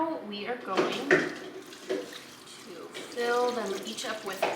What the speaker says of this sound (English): fill them each up with water.